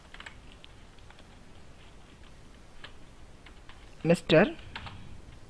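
Keys tapping on a computer keyboard while writing in MS Word 2007, faint scattered clicks under a man's speech, ending in a short louder burst of quick strokes.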